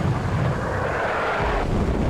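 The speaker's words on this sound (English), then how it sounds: "Alright, planes." Aircraft called in during the Armored Brigade II war game, a steady loud rushing engine roar with wind-like noise filling the whole moment, a brief rising whine near the end, no talk.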